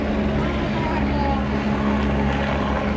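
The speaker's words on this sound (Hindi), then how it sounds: "कितने सारे हेलीकॉप्टर जा रहे हैं यार।" Several helicopters flying overhead produce a loud, steady, continuous rotor and engine drone that fills the air without a break.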